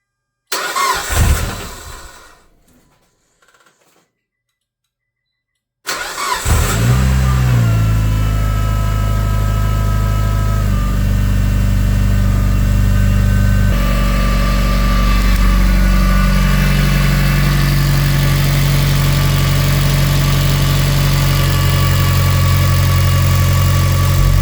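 A Mitsubishi Lancer Evolution, just serviced with new spark plugs and injector seals, cranks briefly and catches, then settles into a loud, steady, close-up idle that rumbles on evenly with no voices.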